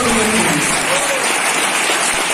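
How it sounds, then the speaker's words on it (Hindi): Sustained audience applause at a corporate sales training session fills the whole stretch, dense and steady, with a faint voice briefly heard near the start. "जबरदस्त ताली होना चाहिए"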